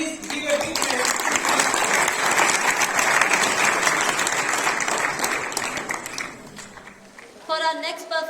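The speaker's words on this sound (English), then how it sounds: "Please give a big hand." An audience at a university Republic Day celebration gives steady, full applause for several seconds. The clapping fades near the end and a voice begins speaking.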